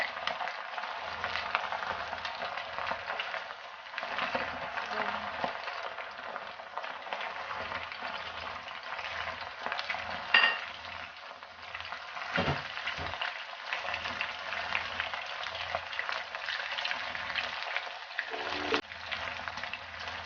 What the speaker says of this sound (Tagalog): I-deep fry po natin siya ng 12 minutes, guys.